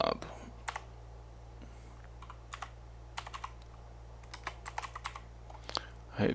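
Scattered keystrokes clatter on a computer keyboard, irregular taps and small bursts with quiet gaps, close and fairly soft over a low hum.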